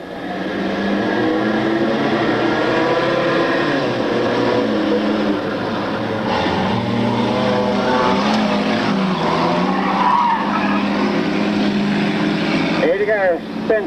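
A No. 80 race car spins out at a 1997 racing event, tires skidding and squealing under a continuous roar of engines, with a commentator talking over the noise.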